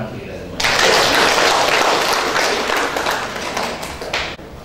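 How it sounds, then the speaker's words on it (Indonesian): An audience at a university event bursts into loud, dense applause that starts abruptly and holds steady before thinning slightly near the end. "Tepuk tangan untuk kita semua."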